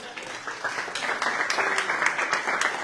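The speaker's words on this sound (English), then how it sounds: "let's give a round of applause for Mr. Robinson" Audience applause at a national school chess tournament, a dense steady patter of many hands clapping at moderate volume throughout, with a few sharper claps standing out.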